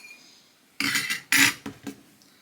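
A utensil mixes an almond milk mixture for an apple cake batter in a bowl, making a few close, quick scraping clinks in short bursts.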